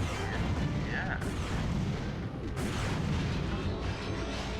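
Weapon fire in the video game Ratchet and Clank: Going Commando, a dense, continuous barrage of booming blasts and bursts under game sound, with a person talking over it.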